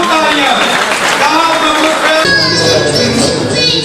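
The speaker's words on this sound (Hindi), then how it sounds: "जबरदस्त तालियां जी" Loud, dense applause fills a poetry recital hall, steady and unbroken, with a tonal musical or voice layer running through it.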